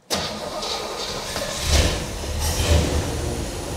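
A stock Chevrolet Corvette C2 in excellent condition cranks and fires at once, then settles into a steady, fairly quiet idle rumble, close by.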